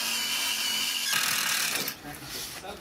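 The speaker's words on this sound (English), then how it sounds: "Putting the bolts on right now." A power tool, likely a drill or impact driver, drives bolts into the frame of a motorized solar power station, whirring steadily at close range for about two seconds, then cutting off.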